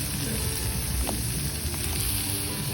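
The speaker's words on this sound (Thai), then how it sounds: "หลังจากนี้เราจะใส่ มะเขือเปราะ เราจะใส่มะเขือเปราะลงไปผัด" Thai eggplant being stir-fried in beef green curry, a dense close sizzle with faint stirring, no talk.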